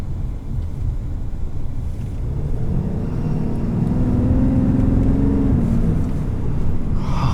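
A 2020 Ram 3500HD pickup with a Cummins diesel engine accelerates hard, its deep engine rumble building and rising steadily in pitch from inside the cab.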